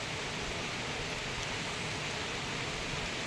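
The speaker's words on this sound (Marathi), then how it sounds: "पाऊस पण पडतोय" Steady rain falls outdoors near a stream during fishing, a dense, even hiss that holds constant for the whole stretch with no voices.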